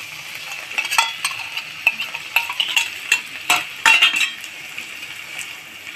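Spice paste made with mustard and yogurt for a fish curry, stirred and fried in a pan, with soft sizzling under repeated clinking and scraping strokes of a metal spoon, close and steady, with no voices.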